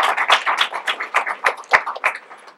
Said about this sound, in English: Please give Hope Caldwell a big round of applause.